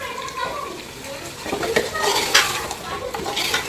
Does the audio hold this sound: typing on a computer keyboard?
no